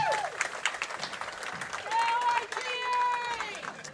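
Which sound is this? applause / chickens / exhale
applause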